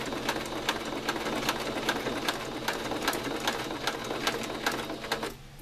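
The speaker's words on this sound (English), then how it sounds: "I just kind of hold it and let the machine pull it back" A sewing machine stitches across fabric with a fast, even rattle of needle strokes, close and fairly quiet, running steadily before slowing to a stop at the end.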